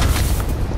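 Loud, close bomb explosion in the video game Ghost Recon, a short dense booming roar filling the whole moment with no talking over it.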